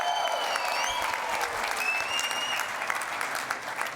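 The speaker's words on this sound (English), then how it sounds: "We want you to celebrate. Please, cheer." A graduation ceremony audience at Victoria University cheers and applauds in a steady, dense wash of clapping, with scattered whistles and shouts rising above it.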